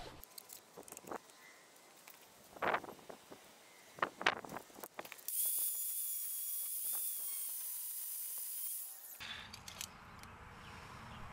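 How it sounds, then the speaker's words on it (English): Fine-thread bolts for a Tecumseh engine mouse blocker are cut to size with a steady, hissing high whine lasting about four seconds, preceded by scattered clicks and handling knocks and followed by quieter clatter. "So I'm going to cut these bolts to the right size."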